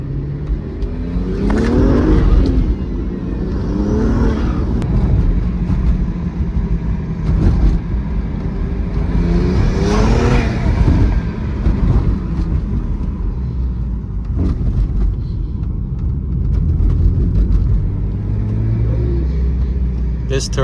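A BMW E82 135i with a turbo and a limited-slip differential revs hard through a spin, its engine swelling and dropping in several loud rising surges close by, with talk heard over it.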